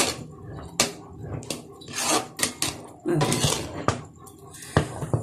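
A spoon scraping and knocking against a pot while ulundhu kanji is stirred, with irregular clinks and scrapes close up and a voice talking between them.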